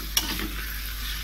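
Cabbage and carrot are stir-fried in a pan, a close continuous sizzle with one quick scraping knock of the utensil at the start, steady and alone without talk.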